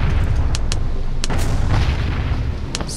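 Cannon fire in a Pirates of the Caribbean naval battle video game: several deep booms and bursts in steady succession over a continuous low rumble, loud and close, with no talk.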